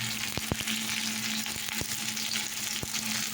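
Cumin seeds and spices fry with bitter gourd in hot oil, giving a dense, continuous sizzle with a few sharp crackles and spatters on top.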